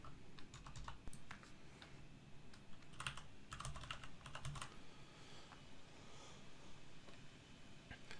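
Keys on a computer keyboard clatter in quick, uneven bursts during data entry in an Excel spreadsheet, soft and close with short pauses between runs of typing.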